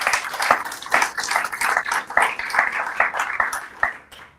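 An audience at a river management programme handover event claps steadily, a dense patter of many hands that holds evenly before thinning out at the end.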